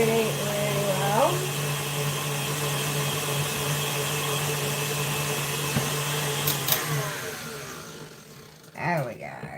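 An electric mixer whips biscuit dough made with a margarine-like spread, giving a steady, loud motor whir that drops away near the end, followed by a brief rattle.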